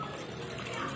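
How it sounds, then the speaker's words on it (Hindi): Cold water pours into a pot of cut potatoes for French fries, giving a steady, close gushing splash that runs without a break through the whole moment. "बर्तन में डालने के बाद पहले हम इसमें ठंडा पानी डालेंगे।"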